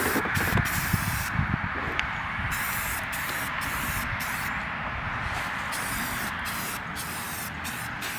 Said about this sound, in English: we're just gonna give it some Rust-Oleum primer and cover up some of this rust.